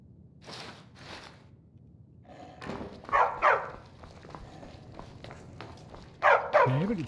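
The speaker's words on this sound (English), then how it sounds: "Can anybody sleep with that dog?" A dog barks in Skyrim, a few sharp close barks in two clusters with quieter footsteps and faint ambient game sounds between them.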